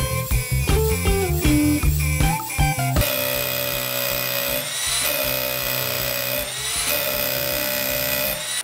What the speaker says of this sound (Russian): И следующий на старте это легендарный перфоратор Makita.